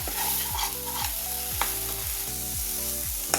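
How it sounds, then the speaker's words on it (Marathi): Onion and tomato puree sauté in oil over a medium flame while being stirred continuously, a steady close sizzle with regular stirring strokes and no voices. "हे बघा, कांदा आणि टोमॅटो तेलावर छान परतले गेलेत।"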